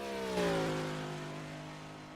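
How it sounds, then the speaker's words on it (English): A race car engine screams at full throttle during a qualifying lap, one loud, steady high-pitched drone with a brief rising surge early on, then holding close and sustained with no voices. "He's really on that throttle there."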